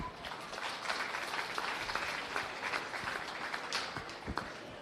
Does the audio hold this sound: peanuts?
no